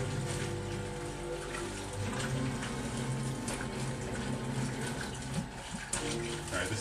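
Tap water running steadily into a bag of soaking goulash meat, a continuous close splashing rush throughout.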